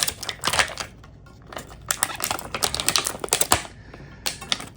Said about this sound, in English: let's take them out of the packaging.